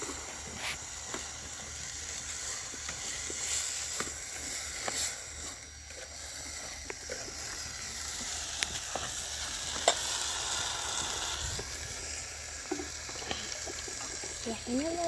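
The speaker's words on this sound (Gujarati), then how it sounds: "તમે જોઈ શકો છો ચોખા નખાઈ રહ્યા છીએ।" Rice is tipped into a pan on a village wood-fired clay chulha, giving a soft sizzling patter with watery splashes and clinks, while people talk nearby.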